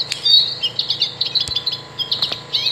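American goldfinch song from a new Wild Republic Audubon plush toy: a lively, continuous series of high twittering and warbled chirps, moderately loud and alone, with a couple of faint clicks.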